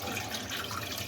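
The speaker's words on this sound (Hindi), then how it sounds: "अब एक देचकी में मैंने मछली का सिरा और उसका फ़िश टेल वो डाल दिया और साथ ही इसमें पानी डाल दें" Water poured into a cooking pot holding a fish head and tail for stock: a steady, close splashing rush that runs continuously and cuts off abruptly at the end.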